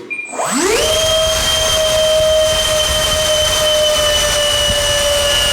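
A model SR-71 jet's twin 64mm electric ducted fans spool up within a second into a loud, steady high-pitched whine with a roaring rush beneath, holding at full power throughout a thrust test.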